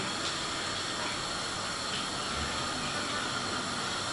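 Boiling beer wort in a home-brewing BIAB kettle, stirred near the end of the boil, gives a steady broadband hiss of rolling bubbles and steam that stays continuous and fairly loud throughout.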